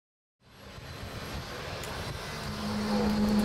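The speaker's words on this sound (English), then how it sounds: "I'm not talking too much because the engine noise is too loud" A Cessna Grand Caravan Amphibian turboprop engine starts, humming and droning steadily, rising in loudness after a silent start, with a faint tonal whine joining near the end.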